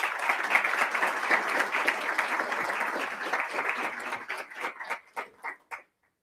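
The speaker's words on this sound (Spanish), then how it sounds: "Por favor, demos un fuerte aplauso a todos ellos" Applause from an audience at a Model United Nations event, a dense sustained clapping that thins into a few scattered claps before stopping, with no talk over it.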